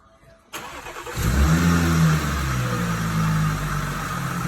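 After a brief quiet moment an Audi 3.0 TFSI engine cranks and catches after a rebuild, revving up loudly before settling into a steady rumbling idle nearby.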